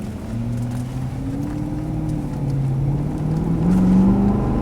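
A car converted to run on LPG accelerates on petrol, its engine note climbing steadily in pitch and growing louder over several seconds, alone without any talk.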